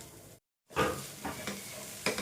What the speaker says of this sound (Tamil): இப்போ வந்து லைட்டாக ஆனியன் வதங்கின மாதிரி இருக்குது ஸோ அதனால் நம்ம வந்து டொமேட்டோ ஆட் பண்ணிக்கலாம்